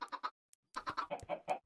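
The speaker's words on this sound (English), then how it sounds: "That's where I've been keeping the chickens that I slaughter for stuff." Chickens in the Minecraft video game cluck in a quick series of short, close, clipped calls, a burst of three and then a run of six more, with no talk.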